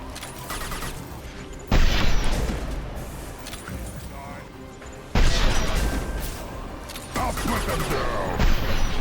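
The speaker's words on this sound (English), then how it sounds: "that explosion threw off my aim" Explosions burst during Mass Effect 2 combat, two loud booms sharply raising the level amid sustained gunfire and battle noise, with a player talking throughout.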